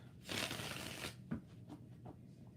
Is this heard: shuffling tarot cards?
yes